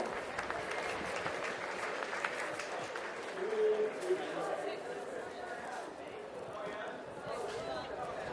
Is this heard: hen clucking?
no